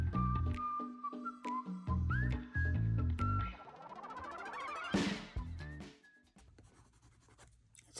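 Pencil scratching across paper while sketching a cute panda, short scribbling strokes in bursts with brief pauses, close and fairly soft, with a faint whistle-like tone running through parts of it.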